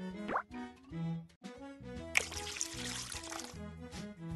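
A cup of orange juice pours into the batter bowl in the Max and Ruby baking game, a brief plopping splash and trickle over bouncy background music.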